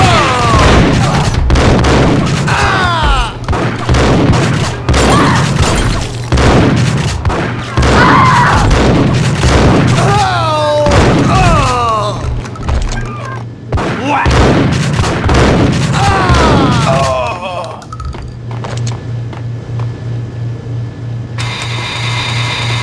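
Shootout gunfire from the video game Max Payne: a rapid string of loud, close shots with booming thumps, mixed with game music and effects over about twenty seconds, tapering off near the end.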